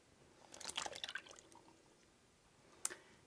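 Buttermilk is poured into a mixing bowl for cinnamon swirl bread, a faint, brief wet splash and glug followed by a single soft drip.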